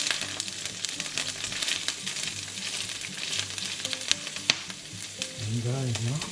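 Garlic scapes sautéing in a pan, a steady, loud crackling sizzle with spitting pops and splatters throughout, and brief clinks near the end.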